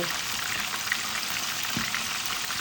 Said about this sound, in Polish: Także teraz jeszcze spokojnie jeszcze smażę.